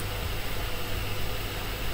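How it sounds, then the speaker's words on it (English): A laptop's cooling fan runs hard, giving a steady, dense broadband whoosh with a low hum underneath, constant and close throughout with no talking. "And this is the sound of my laptop taking off."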